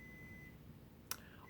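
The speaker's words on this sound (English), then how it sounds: "I hear my timer going off." A kitchen-style timer gives one short, faint beep near the end of a quiet stretch, standing alone with no talking.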